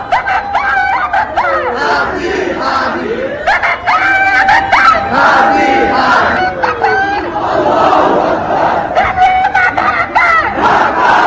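A large crowd in Dhaka, Bangladesh chants slogans in loud, rhythmic bursts, with many voices shouting together in repeated waves and brief gaps between them, close and energetic throughout.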